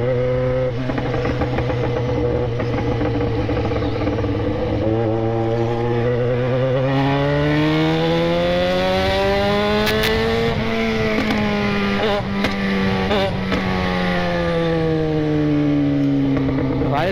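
A Yamaha XJ6 motorcycle is ridden with its exhaust loud and close, the engine tone climbing and falling through revs and gear changes. Sharp crackles near the middle could be exhaust pops.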